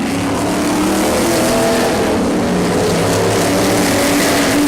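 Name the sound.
race cars on track during race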